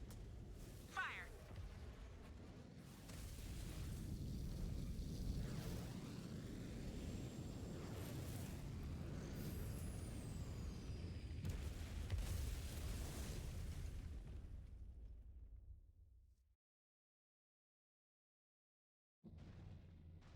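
A building collapsing under explosions in MechWarrior 5: Clans, a long low rumbling roar with crashing debris that runs for many seconds, cuts to silence, then resumes briefly.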